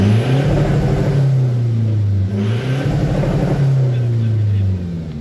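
A remapped vehicle engine with a Bidot exhaust revs up in a couple of rising and falling pulls, loud and close, with a deep rumbling tone between revs.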